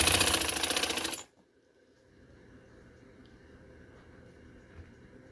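A sewing machine runs a fast, steady stitch along a blouse seam, sounding close and loud for about a second before it stops, leaving quiet room noise.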